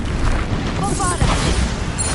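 A Bombarda blast spell in the Hogwarts Legacy video game lands as a booming, rumbling explosion amid spell effects, with brief shimmering tones on top and a sustained low roar across the short moment.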